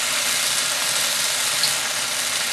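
Pork and cornstarch-marinated vegetables stir-fry in sesame oil for an XO brown sauce dish, giving off a loud, steady, close sizzle that hisses evenly throughout with no voices.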